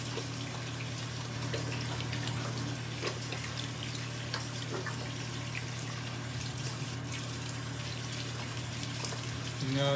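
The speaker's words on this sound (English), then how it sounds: "Wash my hands first." A tap runs steadily while hands are washed, a continuous hiss of water with faint splashing and no speech.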